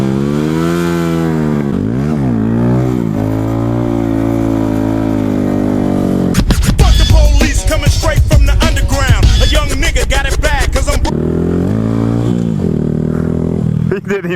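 A motorcycle pulls a wheelie on an asphalt street, its engine revving hard and loud in a rough, rising roar in the middle, with a lower engine drone before and after.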